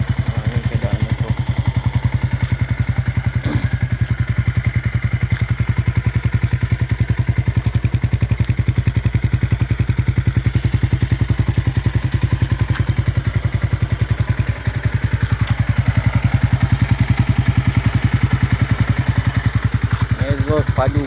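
Yamaha Y15 motorcycle with a drag-style exhaust, idling with a steady low, pulsing engine note and light mechanical clatter, heard close and continuously throughout.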